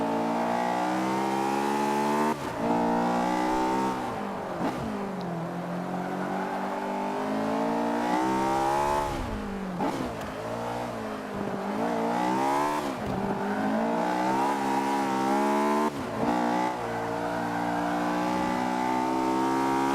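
A race car's engine in the Forza racing game revs and surges continuously, pitch climbing and dropping through gear changes and braking into corners, with occasional brief tire squeal and the car running loose.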